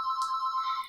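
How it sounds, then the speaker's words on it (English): A phone ringtone plays alone, a steady electronic tone with a repeating warble held for about a second before cutting off. "sorry about my phone"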